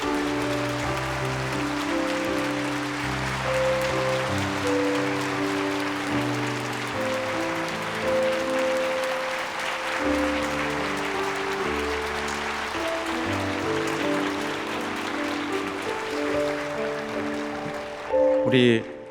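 A church congregation claps together, a steady wash of applause blended with sustained music tones and some voices throughout, then a brief louder burst near the end.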